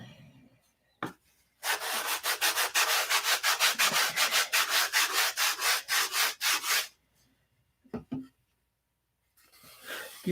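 Coarse 80 grit sandpaper rubs over the wood of a model plane in a quick run of about twenty even back-and-forth strokes. A few isolated scrapes follow after short pauses, with no talk.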